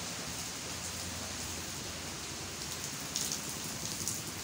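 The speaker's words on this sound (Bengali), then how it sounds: "তা বৃষ্টি পড়ছে খুব নিরিবিলি।" Steady rain falls outside a house with flowering plants in front, a dense even patter with a few sharper drops near the end, no voices.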